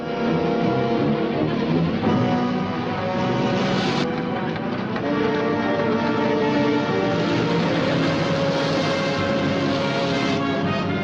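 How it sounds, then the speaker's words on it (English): A train rumbles steadily and loudly throughout, with sustained horn-like tones sounding over the heavy mechanical noise. "Look out, sir. There's a train coming."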